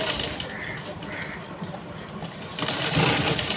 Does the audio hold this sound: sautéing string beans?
no